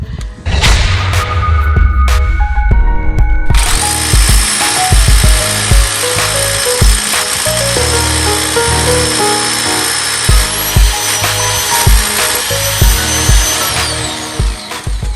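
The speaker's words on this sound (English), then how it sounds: "I'm drilling some holes inside the existing building" A loud power drill whirs continuously as it bores holes into an existing building wall for reinforcing steel, with grinding bursts and pauses as the bit bites in.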